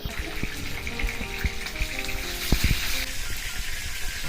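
Pieces of katla fish fry in hot oil, a dense, steady sizzle with frequent sharp crackles and pops, close-up and continuous, with no talking.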